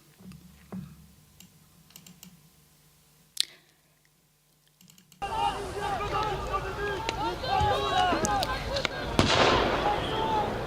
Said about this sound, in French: Ah ben ça, c'est des grenades, des vraies grenades, quoi.